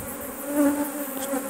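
Honeybees buzzing steadily inside a nucleus colony hive, a close, continuous insect drone with a sustained hum and slight swells in loudness, with no voices.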